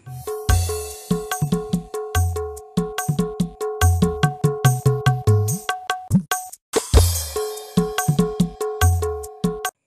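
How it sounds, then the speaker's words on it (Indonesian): A kendang drum struck in a lively, syncopated pattern, deep thumping hits mixed with sharper ringing slaps, played close and loud with short pauses between phrases. "Selanjutnya ini namanya alat musik kendang. Cara memainkannya yaitu dipukul."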